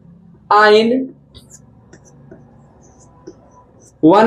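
Marker or chalk strokes on a board during a chemistry lecture, faint short scratches and taps heard in the pause between two bursts of a teacher's talk.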